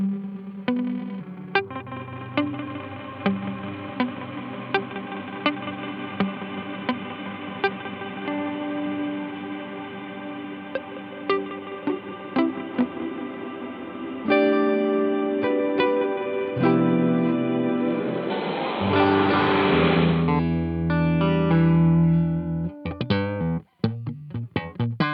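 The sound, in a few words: Chase Bliss MOOD pedal's massive lo-fi reverb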